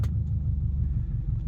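A Chevrolet Corvette C8 on a highway gives a steady low rumble close by, with no distinct pass-by peak across the brief stretch.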